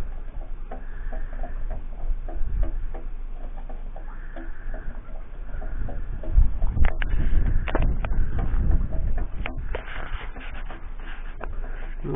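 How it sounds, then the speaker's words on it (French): Water filling a tank gives a soft, continuous rushing and trickling with scattered clicks and knocks, moderately close and fairly quiet throughout. "c'est le bruit de l'eau qui remplit la cuve"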